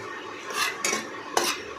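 A spoon scrapes through potol bata, a pointed gourd paste, in a cooking pan with a dried chilli. Three short, close scraping strokes are heard with no talk.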